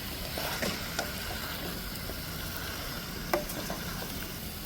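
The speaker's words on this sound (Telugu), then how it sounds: "ఇప్పుడు ఒకసారి కలిపేసుకుందాం." Chicken fry piece biryani is stirred in a pot, giving faint scraping and soft clinks under a low sizzling background, with one sharper knock near the end and no talk.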